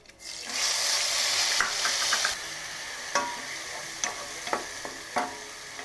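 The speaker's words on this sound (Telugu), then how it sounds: "ఆనియన్స్ పేస్ట్ వేసుకుందామండి" Onion paste dropped into a hot pan bursts into a loud sizzle that settles into steady frying, with repeated scraping strokes of a spatula stirring through it, no talk.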